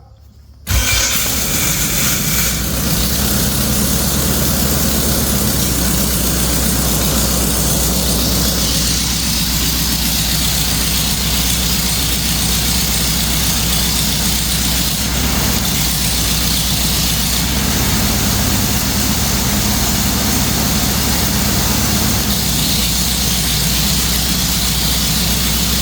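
A light aircraft's piston engine and propeller, just fitted with a replacement electronic ignition, catches and then runs as a loud, steady, close-up drone with no break for about 25 seconds.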